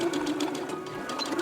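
A sewing machine stitches a bust lining to the shell of a dress at the neckline, giving a continuous, close mechanical hum with rapid, even needle pulses throughout.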